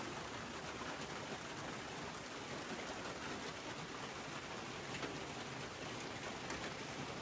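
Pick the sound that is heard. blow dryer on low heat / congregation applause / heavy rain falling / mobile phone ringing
heavy rain falling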